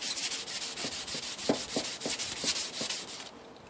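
Rust is scrubbed off chrome with an abrasive and flat Diet Coke: rhythmic back-and-forth rasping strokes, about a dozen in quick succession, close and clear, ending abruptly.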